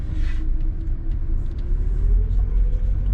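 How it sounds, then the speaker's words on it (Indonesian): A car rolls past on a street in Nagoya, Batam, its low engine rumble steady and fairly close for a few seconds, with no talking. "Ini ada mobil."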